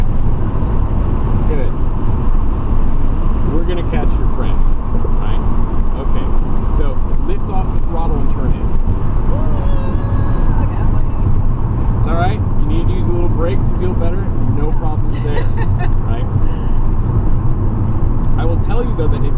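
An Audi A3 e-tron accelerates on the Thunderhill race track, a constant motor hum mixed with wind buffeting inside the cabin while a person speaks throughout.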